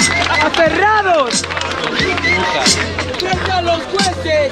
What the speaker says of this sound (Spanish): ¡Fuerte ruido al Lin y al Bala!